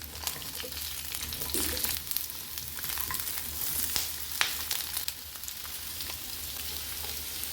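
Cauliflower florets and carrot stir-fry on high heat in a pan, a steady dense sizzle with occasional sharper crackles and stirring scrapes, close and continuous throughout.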